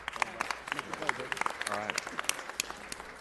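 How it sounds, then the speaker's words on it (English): Audience applause at a city council meeting, a brisk scatter of claps from a modest crowd in an indoor chamber, steady for a few seconds. "Let's give a round of applause to Brian Irvine."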